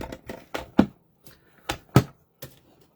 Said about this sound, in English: So I'm going to go ahead and just run that through the die cut machine.